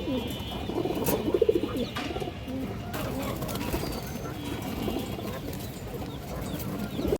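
A pair of Sirazi pigeons cooing in a breeding coop: soft, low rolling coos repeat against a continuous background murmur, with some faint rustling.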